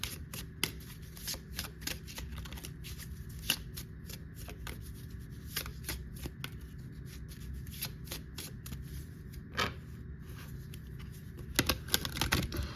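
Tarot cards are shuffled continuously, with a steady riffle of crisp, close card flicks and occasional sharper snaps throughout.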